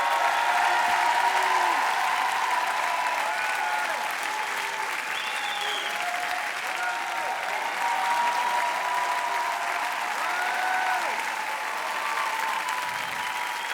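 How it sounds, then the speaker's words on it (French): Sustained studio audience applause on a French TV singing talent show, a dense, steady wash of clapping filling the whole stretch with faint crowd voices and occasional cheers underneath. "repars la tête haute sous les applaudissements du public"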